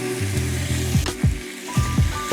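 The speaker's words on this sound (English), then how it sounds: "You can just hear that sear already coming through." Beef short ribs searing bone-side up in a hot pan for a red wine braise, giving a steady close sizzle with a few louder crackles and a clatter of handling.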